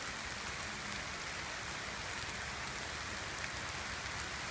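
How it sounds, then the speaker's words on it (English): Steady rain falls on an outdoor trail in South Milwaukee, a dense even hiss of drops that holds without a break at moderate volume. "And the rain is coming down pretty good."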